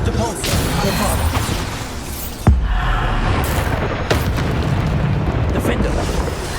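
Bombarda spell blasts in Hogwarts Legacy combat, a sharp booming impact near the middle over continuous dense battle noise and effects, with further thuds following, while shouted spell incantations ring out.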